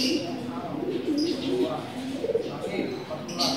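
Cooing of a competition Bangin turtledove ringed in 2016, soft repeated low coos in a steady rhythm, close by, with people talking over it and occasional higher chirps.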